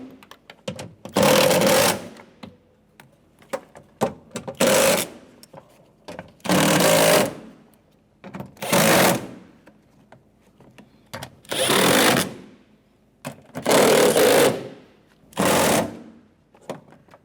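A power tool tightens bolts on a 2011-2021 Jeep Grand Cherokee power window regulator assembly, firing in about six short, loud whirring bursts separated by quiet pauses.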